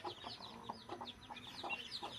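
A hen and her newly hatched chicks, with soft repeated clucks and high, thin peeping close by, quiet and steady throughout without any talking.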